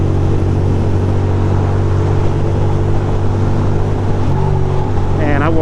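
A Ducati motorcycle ridden through New York City, its loud steady engine drone mixed with wind rush, then the pitch climbs sharply in the last moment as it accelerates.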